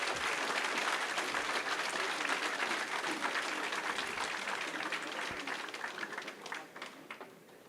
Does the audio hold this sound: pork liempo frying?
no